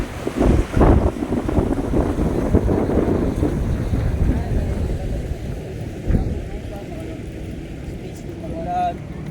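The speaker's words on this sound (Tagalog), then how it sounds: "Medyo mahangin ngayon yung panahon." Gusty wind buffets the microphone on a Davao City coastal road by the sea, a steady rushing roar with stronger bursts early on, while voices talk over it.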